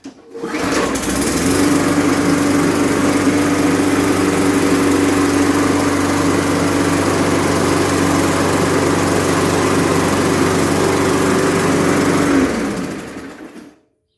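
A small Toro gas lawn mower engine starts up on the first pull and runs at a steady, loud drone for about ten seconds before cutting off.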